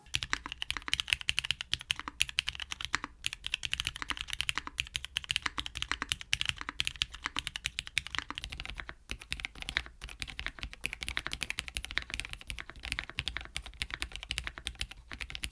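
Steady fast typing on a keyboard with GMK keycaps, a non-flex-cut 1.6mm PCB and an aluminium plate, a dense run of close, crisp keystrokes with no talk.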